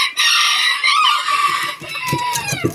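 A bantam rooster in Khon Kaen crows loudly and close for over a second, then several hens cluck in short, scattered bursts nearby.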